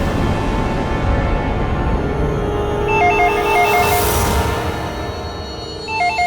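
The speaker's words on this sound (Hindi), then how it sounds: "तो भी फोन उठाओ" A telephone rings with a repeating electronic trill over a loud, noisy background, with ring bursts partway through and again at the end.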